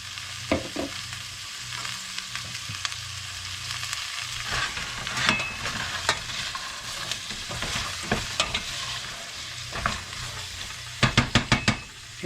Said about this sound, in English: You want to go ahead and cook these vegetables to the point to where there's translucent.